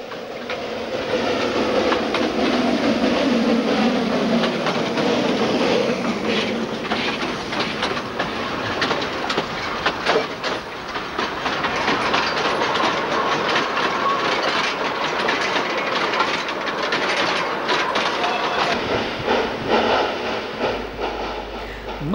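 A Class 764 narrow-gauge steam tank locomotive hauls a train along the Vaser Valley line in Romania, making a sustained loud rumble with steady rhythmic clatter of wheels that continues throughout.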